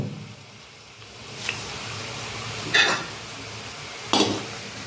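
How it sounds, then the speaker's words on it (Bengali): Potato-and-flour pantua dough balls go one by one into hot oil, a low steady sizzle broken by a few sharp clinks and splashes as each ball drops in, fairly quiet overall. "তেলটা অলরেডি গরম হয়ে গেছে, আর আমি এখন বলগুলো একটা একটা করে দিয়ে দেব।"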